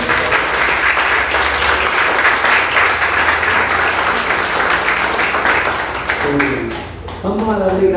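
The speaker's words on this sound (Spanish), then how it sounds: "Dan un aplauso fuerte al Señor" A church congregation breaks into loud, sustained applause that fills the room for several seconds, then fades as voices start to rise at the end.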